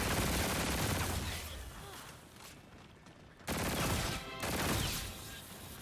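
Rapid automatic gunfire from a weapon in the shooter game Call of Duty: Infinite Warfare, loud sustained bursts with a short lull in the middle before firing resumes.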